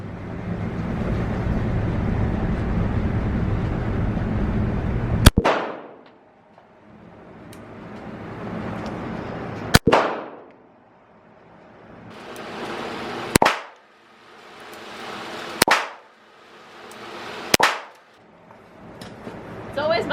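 A SIG P365 compact pistol fires five sharp single shots at uneven intervals, each a loud crack with a quick ringing decay, after a stretch of steady background noise.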